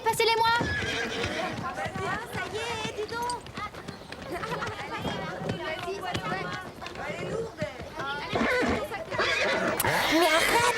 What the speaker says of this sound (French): Venez, il faut charger nos chevaux.